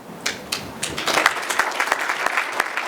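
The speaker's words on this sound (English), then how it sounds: "Let's give the treasurer a big round of applause." Applause from a crowd, scattered claps building into steady clapping that continues for a few seconds.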